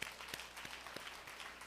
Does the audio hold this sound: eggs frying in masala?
no